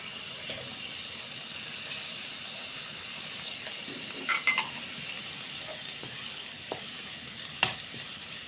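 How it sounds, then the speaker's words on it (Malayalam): Ginger garlic paste fries in a pan with a soft, constant sizzle, broken by a few faint stirring scrapes and light taps. "ഇനി നമുക്കിതിലേക്ക് ഇഞ്ചി വെളുത്തുള്ളിയും പേസ്റ്റും കൂടി ഇട്ട് കൊടുക്കാം"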